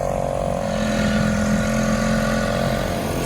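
A steady outboard boat motor drones loudly and continuously up close in Maine, holding an even pitch with a constant mechanical buzz and no voices.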